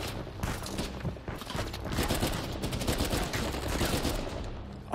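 Dense, continuous gunfire from a three-round burst rifle in Uncharted 4 on PS5, with bursts overlapping in a steady, loud battle din and no talk over it.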